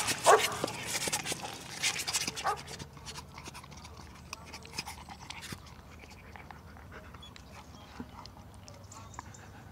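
A dog pants and gives a few short barks and whimpers up close at the start, then quieter panting and shuffling follow.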